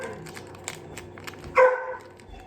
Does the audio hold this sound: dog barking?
yes